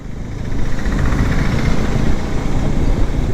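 Motorcycle engine running steadily in fourth gear while cruising on a BS6/BS4-era bike, a continuous low mid-range drone with a slight vibrating buzz, close and fairly loud with no talking.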